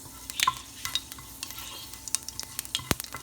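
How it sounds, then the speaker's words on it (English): Cumin seeds sizzling in hot oil, stirred in a pan for an egg-tomato curry: a soft continuous fry under irregular close clicks and scrapes from the spoon, with one sharp knock near the end and no talking. "Then put cumin seeds. Move it a little bit, stir it"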